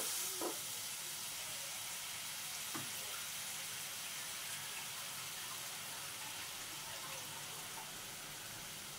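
Water is added to a sizzling potato, papaya and fritter curry in a pan, giving a soft, constant hiss with a couple of brief splashes or knocks early on, fairly quiet and close.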